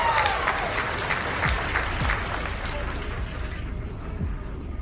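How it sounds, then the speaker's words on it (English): Steady applause from a small crowd, dense clapping that holds at an even level for several seconds before thinning slightly toward the end. "Give her a round of applause, please, Annie"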